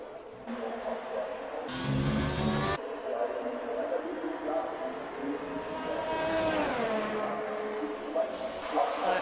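Formula 1 car engine in the F1 2019 video game, a steady buzzing whine through the final corner of the Austria circuit, with pitch sweeps as the car shifts and accelerates, heard under ongoing commentary.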